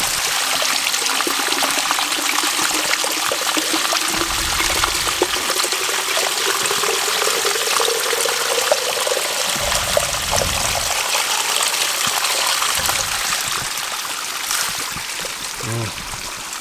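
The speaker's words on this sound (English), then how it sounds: "Fresh, cold mountain water right there." Fresh, cold mountain stream water in the Utah high country, a continuous close rushing and trickling flow that stays steady throughout, with brief low thumps and some faint talk underneath.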